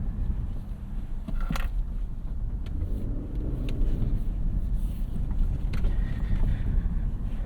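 A 2022 Lexus LX 600 SUV driving off-road gives a steady low engine and drivetrain rumble with continuous wind and road noise, broken by a few brief clunks and knocks from the rough terrain, and no voices.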